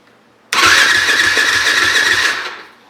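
Yamaha WR 450 motorcycle engine cranks briefly and fires, settling into a loud close-up idle with a rhythmic low pulse for about two seconds before dying down.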